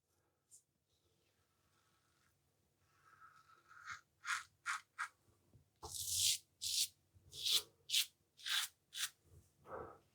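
A Karve Bison stainless steel safety razor is drawn across the grain of facial stubble, producing a series of short, crisp scraping strokes in a quick rhythm, close to the microphone, preceded by faint quiet rustling.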